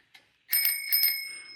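A small bell on a commuter bicycle rings twice in quick double dings, bright and close, then its tone fades out with nothing else heard.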